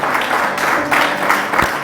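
A church congregation claps at a pastor's Spanish-language sermon, steady dense applause filling the room throughout the short stretch.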